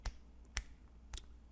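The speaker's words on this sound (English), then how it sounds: "Is that the clapping sound effect?" Three sharp, isolated claps, a clapping sound effect on a podcast, spaced about half a second apart, crisp and close against quiet background.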